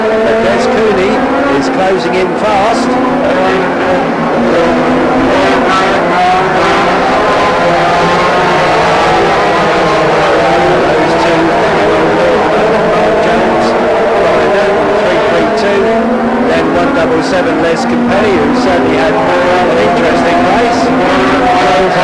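Racing cars roar around Ipswich speedway, a loud, continuous wall of engine noise with shifting pitches as cars pass, heard at a distance with a commentator talking over it.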